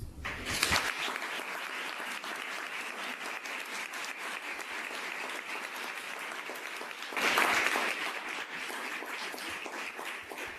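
An audience at Universidad Veracruzana applauding after a lecture, steady dense clapping filling the hall with two louder swells, one near the start and another later on.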